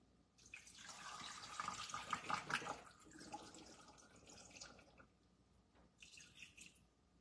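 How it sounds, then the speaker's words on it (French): Water poured from a jug into broth in a pot while making a sauce for braised beef cheeks, a close splashing pour lasting a few seconds, then fading to lighter trickles and drips. "je vais commencer par mettre mon bouillon. Et je vais compléter avec de l'eau."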